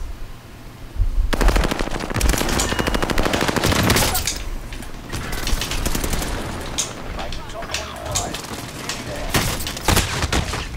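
Rapid submachine gun bursts from a first-person shooter game crackle loudly and near, with repeated automatic volleys and scattered single shots over roughly ten seconds, while a player's voice talks excitedly over the gunfire.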